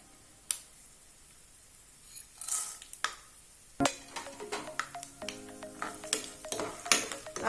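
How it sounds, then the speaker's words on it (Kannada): Peanuts fry in a pan with scattered crackles, pops and light clinks of a stirring utensil, some sharp, some soft, spread unevenly over a quiet sizzle. "ಸ್ವಲ್ಪ ಒಂದು 10 ಸೆಕೆಂಡು ಕಡಲೆಕಾಯಿ ಬೀಜನ ಫ್ರೈ ಮಾಡಿಕೊಂಡು"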